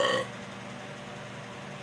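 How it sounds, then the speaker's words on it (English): One short, close burp opens the moment, then fades into a low, steady background hum. "I want to burp some more"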